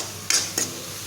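Spice paste with cumin, garam masala, salt and turmeric frying in oil, two brief scraping stirs over a soft background sizzle, close and clear with no voices.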